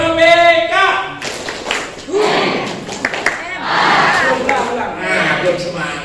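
A classroom group performs a rhythmic clap chant, voices calling out in unison and then sharp, patterned claps in bursts, close and loud.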